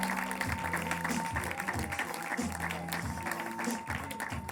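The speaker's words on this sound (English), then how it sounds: "please give us a big round of applause for Patrick Scott" Comedy club audience applauding as a stand-up comedian is introduced, a sustained burst of clapping under music-like tonal sounds and some background voices, moderately loud throughout.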